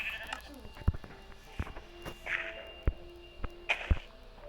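Two or three brief, distant sheep bleats in Minecraft, mixed with footstep thuds and soft clicks, while a person talks quietly at times.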